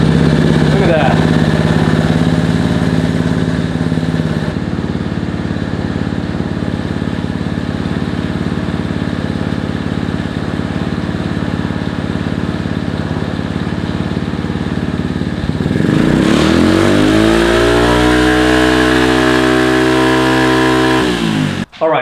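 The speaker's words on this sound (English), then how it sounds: "Let's see what type of noise this one makes." Honda CT70 motorcycle with a chrome aftermarket exhaust idling steadily and loud up close, then revving up and down in rising and falling sweeps before cutting off abruptly.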